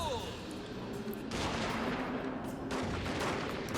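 Troops firing muskets and rifles in a Total War: Fall of the Samurai siege battle at Osaka Castle, a steady crackle of distant massed gunfire rolling on throughout, swelling louder in bursts.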